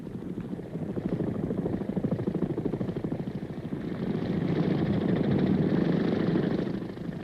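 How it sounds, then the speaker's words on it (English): Rotor and engine drone of big CH-46 military transport helicopters on a 1968 Marine combat supply run, a steady, loud throbbing roar with a fast rhythmic chop that holds through the whole stretch without any talk. "from the big CH-46 helicopters that bring in the ammunition, food, and water, and artillery pieces"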